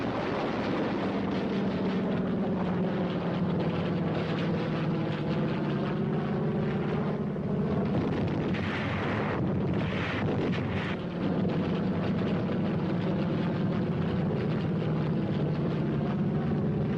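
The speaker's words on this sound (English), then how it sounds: "Navy air comes strafing." Navy aircraft strafing in the Korean War, a loud continuous roar of engines and gunfire rumble with a brief surge of sharper bursts midway, filling the whole stretch without pause.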